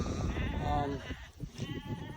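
Sheep bleat repeatedly at close range on a farm, wavering calls overlapping one another against outdoor background noise.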